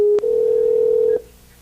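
A cell phone emits a single steady dialing tone that holds for about a second after a brief click, then cuts off abruptly, heard alone and fairly loud.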